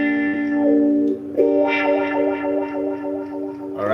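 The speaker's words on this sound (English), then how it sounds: "When you press it down, you hear wah." An electric guitar runs through a Cry Baby wah pedal, sustained chords and notes sweeping in tone with a distorted, effected character, played close and alone without talk.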